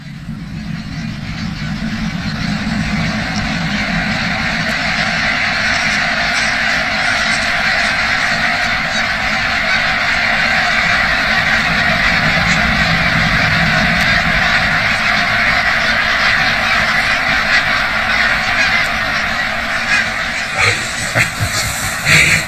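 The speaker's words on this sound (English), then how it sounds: "The drama of the birds taking flight in the early morning" A large flock of geese lifting off at dawn at Loch Gruinart on Islay, Scotland: a continuous loud wall of honking and wingbeats, dense and steady throughout with no pauses.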